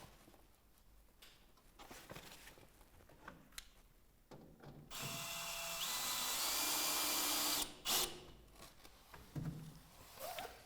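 Power drill driving a screw through a roof window flashing into the roof structure beneath during a Velux Integra roof window installation: a sustained whirring run of a few seconds, preceded and followed by scattered handling knocks and taps.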